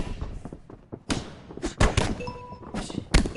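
Heavy body-shot punches land in the UFC 6 video game, several separate dull thuds in an uneven rhythm, close and punchy, with brief quiet gaps between them.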